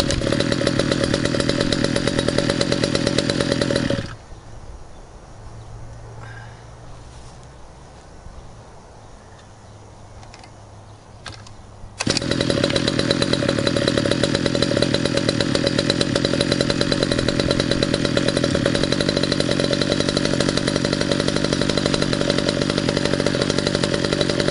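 A large gas-engined RC model airplane, a Century Predator, runs loud and steady close by with a buzzy, chainsaw-like drone. The engine drops to a low idle for several seconds, then returns to full throttle.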